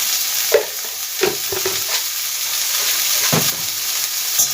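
Moringa flowers and eggplant frying in oil in a pan. A steady loud sizzle runs throughout, broken by several sharp scrapes and knocks of a spatula stirring the pan, with no talking.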